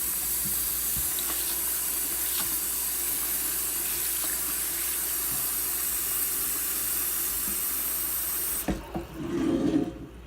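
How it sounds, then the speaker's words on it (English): Tap water runs steadily into a pot as rice is rinsed in the kitchen, making a continuous close hiss and splash. The flow cuts off near the end, followed by a short, brief swirl of water and grains. "So we're rinsing the starch off of the rice."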